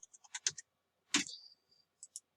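PIN typed on a computer keyboard, a quick run of light key clicks, then a longer click-and-slide, followed by two final taps, all faint and close.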